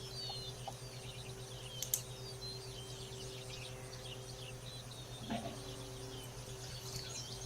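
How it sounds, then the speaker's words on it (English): Birdsong on a warm early-summer morning, faint scattered chirps and tweets over a steady low hum, with a couple of slightly brighter calls standing out. "You can hear the birds are chirping."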